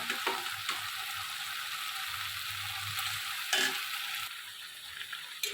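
Boiled jackfruit sautéing in spice paste and oil, a soft continuous sizzle with occasional spoon scrapes and clinks, fairly faint and close.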